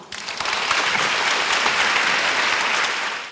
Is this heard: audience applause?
yes